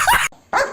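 Two short, sharp dog barks close by, separated by a brief pause.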